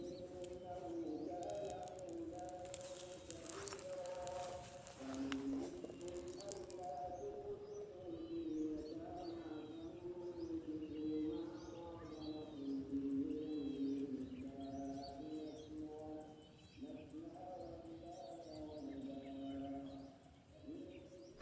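Migratory and local birds call along a mangrove coast, with soft repeated cooing and scattered chirps at a distance over a steady low background hum, no speech.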